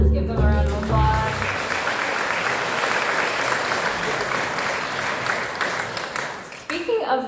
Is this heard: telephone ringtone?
no